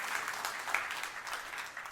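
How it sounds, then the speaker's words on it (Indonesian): A church congregation claps in a brief, soft burst of applause, fairly distant and muffled, lasting a couple of seconds. "Tepuk tangan yang meriah untuk kemuliaan Tuhan."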